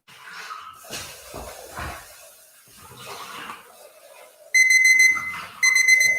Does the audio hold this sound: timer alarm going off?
yes